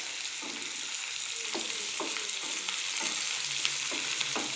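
Spring onion greens and peas sautéing in a pan over medium flame, a steady close sizzle with occasional stirring scrapes.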